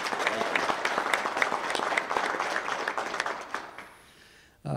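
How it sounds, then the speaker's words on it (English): An audience applauding at an interview with a country singer, a dense burst of clapping that thins and fades out over a few seconds, ending in near silence and a sudden knock. "So how about a little round of applause?"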